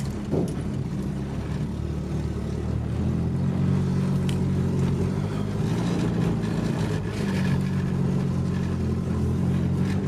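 A Nissan 240SX engine idles loud and steady with a low, throbbing rumble, then takes a touch of throttle that swells its drone slightly before settling back; no talking over it.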